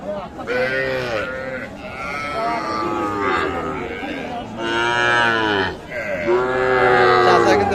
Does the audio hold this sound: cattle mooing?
yes